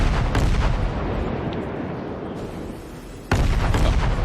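Warship main guns fire during a gun duel in the World of Warships video game, producing heavy booming salvos with a rumbling roar and a fresh loud blast near the end.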